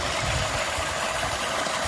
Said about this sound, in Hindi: स्कूटी वाला पंप डायरेक्ट सोलर 2 HP से चलाते हुए 4 इंची पंप